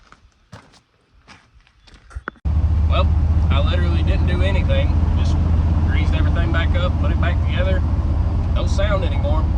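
A Ford Highboy truck engine starts after a few scattered clunks and then idles loudly and steadily with a deep rumble, with a voice talking over it.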